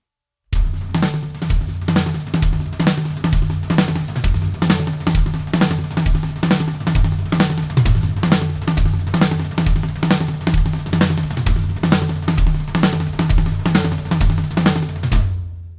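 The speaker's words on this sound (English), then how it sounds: "I was just playing it on the toms" A steady six-stroke roll drum groove on toms, fast rolling strokes in a repeating pattern, loud and close with no talking.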